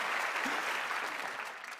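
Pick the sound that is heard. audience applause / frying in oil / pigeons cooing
audience applause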